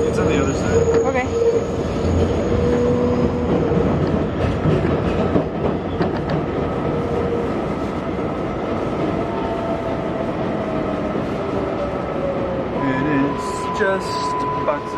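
A New York subway 7 local train bound for Flushing-Main Street rumbles steadily along, with wheel clatter and squeals and a sharp screech near the end, while voices speak over the din.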